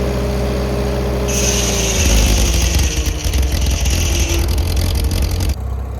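A 1952 Farmall H tractor engine drives a 1950 Corley sawmill with a steady, close mechanical drone. The note deepens and roughens partway through as the load comes on, then drops away near the end.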